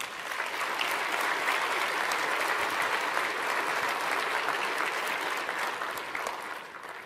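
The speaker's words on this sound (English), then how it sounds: "So let's give them a round of applause" Audience applause greets early access award winners at a data-integration presentation: steady, dense clapping from a sizable crowd that holds evenly for about six seconds, then begins to thin near the end.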